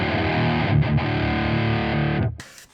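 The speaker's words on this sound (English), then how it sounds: "And then after that we have the high gain distortion." Loud, sustained electric guitar through a high-gain distortion pedal with thick, gritty sustain, briefly dipping twice, then cutting off into a short burst of noise near the end.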